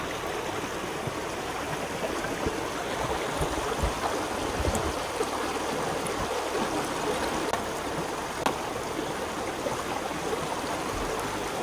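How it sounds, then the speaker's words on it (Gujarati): A mountain stream rushes along the Hooker Valley Track, a steady, close, broadband wash of flowing water that holds even and unbroken throughout with no voices over it. "પાછળથી પાણી આવે છે"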